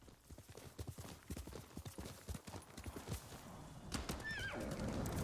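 A horse in the Ghost of Tsushima: Director's Cut video game trots with quick, rhythmic clip-clopping hooves, then gives a clear, whinnying neigh near the end. The sounds are fairly quiet and close, with no talk over them.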